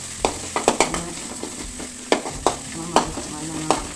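Green chillies with garlic and ginger fry in hot oil in a pan, giving a steady sizzle broken by about ten sharp scraping clinks as a spoon stirs against the metal.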